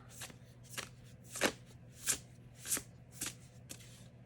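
A Wisdom Tarot card deck shuffled by hand, heard as about seven crisp riffling bursts at a steady pace, close and moderately loud, with no voice over them.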